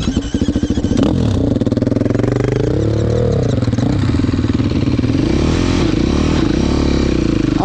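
A KTM SX 350 dirt bike engine and exhaust rev hard, loud and close, with a few sharp blips at the start and then a sustained, throbbing roar whose pitch rises and falls.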